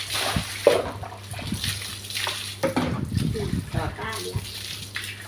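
Warm water splashes and sloshes as a child is bathed, intermittent splatters close by with people talking over them.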